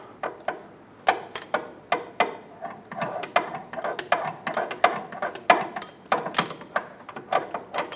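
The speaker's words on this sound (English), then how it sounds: "make sure that you don't back it out so far that you can't get your ratchet off" A ratchet with a deep 14mm socket loosening a bolt on the power steering pump of a 2007-2012 Nissan Altima, close, crisp clicking in quick irregular bursts with short pauses, no talking.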